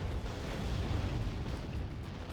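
Artillery explosions destroying a refinery in the strategy game Act of Aggression, a continuous deep rumbling roar of blasts that stays heavy and steady throughout.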